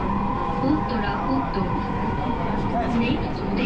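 Constant rumble and hum of a moving metro train at night from inside a carriage, heading from Motijheel toward Farmgate and Mirpur, steady and fairly loud, with a voice speaking over it.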